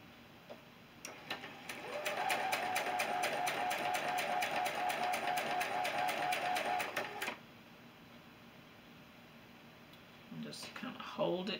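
Sewing machine stitching a quilt block, a fast even run of mechanical ticks lasting about five seconds, close and clear, stopping abruptly, with quiet rustling afterward.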